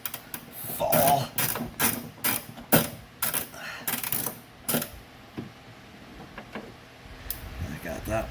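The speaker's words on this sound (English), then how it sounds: "So I got those 2 bolts undone" Bolts on a 1999 Toyota Camry door handle are worked loose, giving a run of sharp metallic clicks and ratchet taps close up, followed by quieter fumbling while a person talks.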